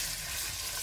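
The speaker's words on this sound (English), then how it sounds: "I'm frying a medium-sized onion" A medium-sized onion frying in a pan for a home-cooked angwamo lunch, giving a steady, close sizzle with no pauses and no voices.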